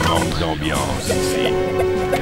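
A crashing explosion booms in the ending cutscene of the second level of Duke Nukem on PS1, with a loud rumbling blast and tonal game music ringing after it.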